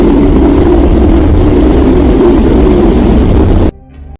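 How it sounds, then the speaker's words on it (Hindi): Sound presented as a recording of Earth heard from space: a dense, steady roaring hiss like distant engine noise, loud and unbroken for several seconds before it cuts off abruptly into near silence. "हमारी पृथ्वी की आवाज को सुनाता हूं"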